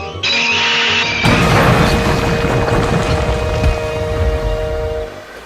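A steam engine crashes and slides, shuddering along a siding: a sharp hiss gives way to a sudden loud crash and a sustained grinding, rumbling slide that fades near the end.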